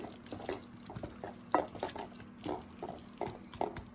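Soft, irregular clinks and wet scraping of a spoon stirring ingredients in a bowl, faint and close.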